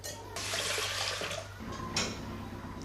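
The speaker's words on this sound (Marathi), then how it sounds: "स्वच्छ धुवून घेतलेले आहे तांदूळ" Water running while ration rice is rinsed, a soft tap-like stream that comes in after a brief pause and keeps up with small splashes, fairly quiet and without talk.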